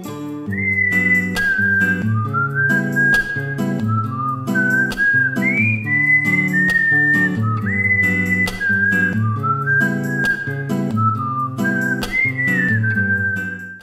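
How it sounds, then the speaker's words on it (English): Looping soundtrack music from the video game Deadly Premonition: a steady acoustic guitar backs a bright, catchy whistled melody that repeats its phrases at a relaxed tempo, loud and clear with no voices. "You'll hear that guitar and that whistling constantly, just like you would have done in this video"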